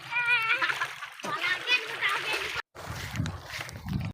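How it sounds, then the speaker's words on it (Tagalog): Children bathing in a river in barangay San Pedro, Floridablanca, splash and slosh the water nearby, with their voices calling and chattering over the continuous splashing before a brief pause and more splashing. "liligo na sila sa ilog"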